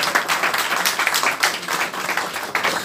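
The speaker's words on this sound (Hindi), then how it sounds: "तालियां बजती रहें तो बहुत अच्छा लगेगा।" Audience at a federation birthday celebration clapping steadily, a dense, loud round of applause that keeps going without a break.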